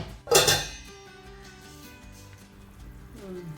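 A metal lid set onto a cooking pot of fish curry gives a single close clank, followed by a quiet steady background.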